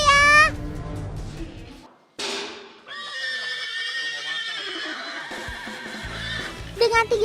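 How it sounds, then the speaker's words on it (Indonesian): An Andalusian horse in pain lets out loud, shrill neighs and whinnies close by, with a pause between calls and some rustling and stable noise around them. "Kalau kamu meringkik begitu, Otan takut"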